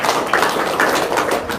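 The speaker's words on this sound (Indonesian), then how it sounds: "Tepuk tangan dong, luar biasa." Hands clap loudly and close by in a quick, steady run, several people joining in at an indoor gathering.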